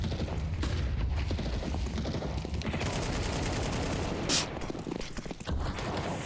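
Counter-Strike gunfire in a competitive match, dense crackling shots and game noise under a constant dense mix, with a sharper burst midway.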